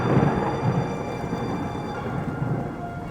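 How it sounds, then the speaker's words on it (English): Thunder rumbles low and distant over steady rain on a mountain slope, a soft wash of falling drops with a few swelling rolls near the start. "soon the distant rumble of thunder echoed across the valley, like a warning from the mountain itself."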